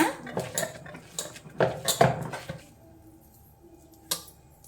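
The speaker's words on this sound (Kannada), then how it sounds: "ಬೇಳೆ ಬಿಸಿ ಇರುವಾಗ್ಲೇ ಒಂದು ಲೋಟ ತಗೊಂಡು ಈ ರೀತಿ ಮಿತ್ಕೋರಿ ಬೇಳೆನ" A tumbler mashes hot cooked chana dal in a metal pot for holige, making a quick series of clinking, clattering taps. A quieter pause follows, then one final clink.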